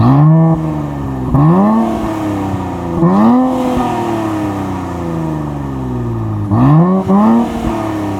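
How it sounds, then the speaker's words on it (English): The exhaust of a 2024 Nissan Z NISMO, heard from outside at night, blips through four sharp revs that rise and fall back to a steady, loud idle between them. "That is a great sounding exhaust."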